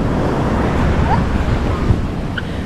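Ocean waves at the seaside on a rainy, rough-sea day surge in a continuous loud wash, with heavy wind buffeting the microphone throughout.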